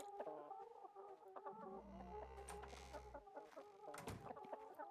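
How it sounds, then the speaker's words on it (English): Chickens in a video game clucking and squawking continuously, several birds at once, with a low rumble midway and a sharp squawk near the end. "So many chickens"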